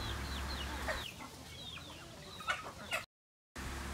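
Free-range farm chickens cluck in a run of short calls over a low steady hum, with a brief dropout near the end.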